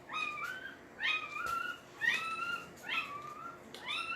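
A puppy lets out five repeated high whining cries, each a rising squeal that falls away, spaced about a second apart and heard close up with no talk.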